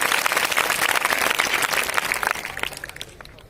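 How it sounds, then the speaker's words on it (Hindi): Dense applause from an audience at a college award ceremony rewards a student's speech, a loud burst of many clapping hands that thins out into scattered claps and dies away near the end. "एक बार जोरदार तालियां हैं इसके उत्साह के लिए"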